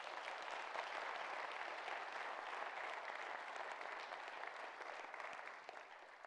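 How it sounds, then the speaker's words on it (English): A church congregation claps in praise during an early Sunday morning service, a broad, even wash of many hands clapping together, fairly distant and sustained, fading slightly toward the end. "Can you give the Lord a hand clap of praise for that this morning?"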